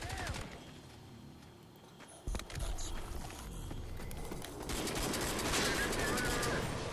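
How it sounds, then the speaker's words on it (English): A shotgun in the multiplayer shooter Crysis 2 fires quick repeated blasts amid game noise. It is fairly faint at first, with a sharp burst about a third of the way in, then a busier volley toward the end. "Look how fast the shotgun fires."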